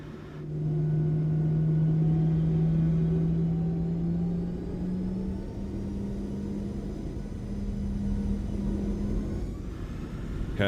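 The engines of a Boeing 737 in MSFS 2024 spool up to takeoff thrust, building into a loud, sustained rumble with a steady whine that holds for several seconds.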